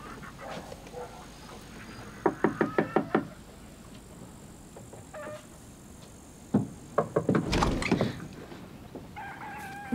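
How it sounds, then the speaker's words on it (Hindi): Someone knocks on a door in two bursts of quick, sharp raps, one cluster early and a second, louder run later, over a faint steady background. "तिखोन दरवाजा खोल जल्दी।"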